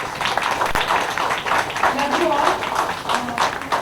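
An indoor audience at a beauty-business event in Surat claps steadily, a dense continuous patter of many hands throughout, with some voices mixed in.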